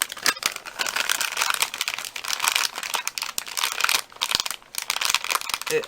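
Creative PaperClay fresh out of a Ziploc bag is handled up close, giving steady crinkling and crackling plastic-bag rustles with soft crunches, loud and continuous throughout.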